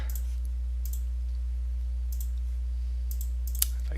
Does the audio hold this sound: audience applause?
no